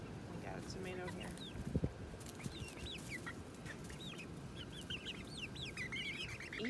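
Backyard chickens cluck and chirp softly while pecking at kitchen scraps such as tomato near their coop. The calls are faint and scattered over a low outdoor hum, with a couple of small knocks.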